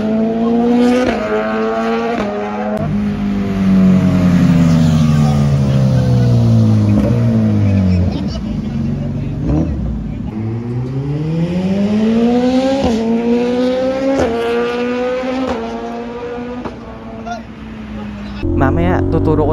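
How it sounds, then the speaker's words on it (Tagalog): Motorcycle upshifting with a quickshifter and auto-blip, the engine note climbing and snapping through several quick gear changes, loud and close, with rising and dropping pitch sweeps. "Yung quick shift, grabe, ang ganda ng tunog nun."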